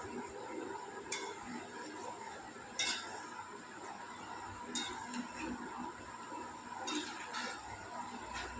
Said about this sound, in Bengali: এখন একটু নাড়িয়ে চাড়িয়ে দেব।